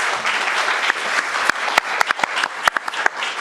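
Audience at a county special public meeting breaks into applause, a dense wash of hand claps with sharper individual claps standing out toward the end, fairly close and steady throughout.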